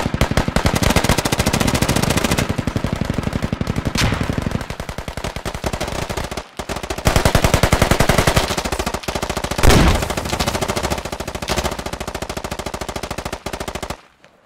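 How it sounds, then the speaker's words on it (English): A Humvee-mounted machine gun fires in the military shooter game SQUAD, long loud sustained bursts of rapid automatic fire that continue almost without pause through the whole stretch, with brief gaps between volleys. "Is there a Humvee shooting at us?"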